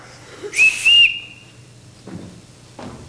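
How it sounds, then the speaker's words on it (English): Whistle blown to summon a household on stage during a high school spring musical, two loud shrill blasts close together, followed by quieter shuffling and movement sounds. "Everyone in this house answers to a whistle."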